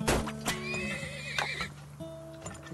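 Horse neighing in a video game, a clear rising and falling whinny with a few hoof clops and soft game sounds around it, fairly quiet.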